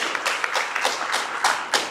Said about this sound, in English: We'll give them a round of applause to unpaid, wonderful volunteers.